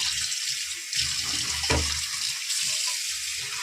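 Large fresh fish pieces rinsed under a running kitchen tap, with steady splashing water and a brief heavier gush midway as the fish is handled.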